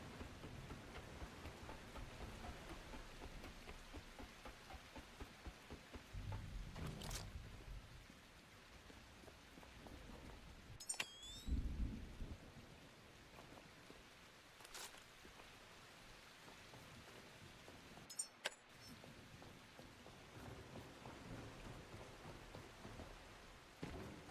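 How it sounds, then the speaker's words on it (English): Steady video game rainfall patters throughout, with a few sharp cracks of thunder breaking through at intervals; no voices. "Of course it's raining again."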